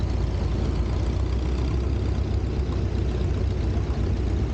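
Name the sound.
1952 Ford 8N tractor engine running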